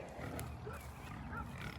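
Pigs waiting to be fed in the morning on a farm grunt and squeal in a low, continuous chorus, close and steady with no talk over it.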